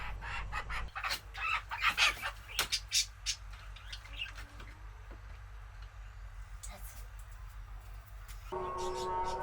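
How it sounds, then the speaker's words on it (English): Chickens clucking and squawking in a coop at a rural home in Bangladesh, a busy run of calls in the first few seconds that thins out, with soft voices and village background noise behind. "Back at home, she puts the chickens in the coop and locks the gate."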